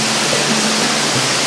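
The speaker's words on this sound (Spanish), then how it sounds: "ahí está, miren, la cascada de la comunidad de Acatipana" A waterfall in the community of Acatipana roars as a steady, loud, close wash of rushing water, swollen by rainy-season flow, with no other sounds standing out.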